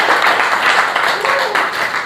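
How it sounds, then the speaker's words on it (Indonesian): A group applauds steadily, the dense clapping holding at a fairly loud, even level throughout with no pauses. "Tepuk tangan nih buat Habil Johan."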